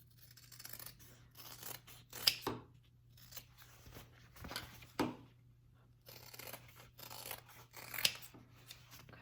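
Scissors snip through fabric while a shoulder bag is trimmed, several quiet, separate cuts with short pauses between them, close and faint against a soft room hum.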